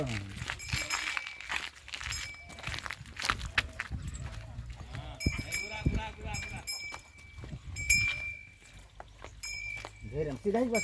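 A horse walks with a child on its back, hooves clopping at an unhurried pace with occasional clinks of tack, while people talk over it throughout.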